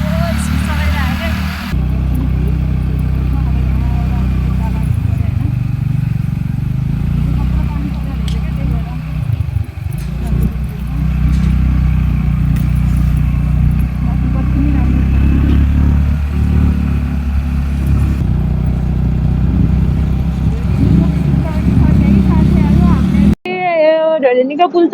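A motorbike rides along a rough unpaved village road, its engine droning steadily and close with rattling over bumps, while someone talks over it throughout.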